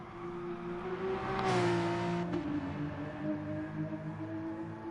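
A Porsche race car at speed during a motor race, its engine a steady sustained drone with a brief rising surge about midway, heard without talk.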